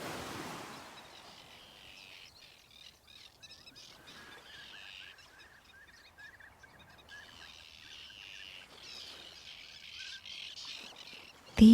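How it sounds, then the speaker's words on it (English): A flock of Arctic terns calls in repeated high chirps over a soft, continuous wash of ocean waves, the birds moderately distant and the surf steady beneath them. "you notice a flock of Arctic terns"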